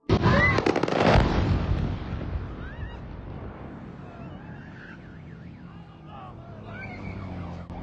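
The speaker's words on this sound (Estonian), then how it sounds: "Meil on tegelikult paar klippi Moskvast, kus droonid plahvatavad igal pool." Exploding drones over Moscow at night: a loud, booming blast right at the start gives way to a long, fading rumble with faint distant crackles.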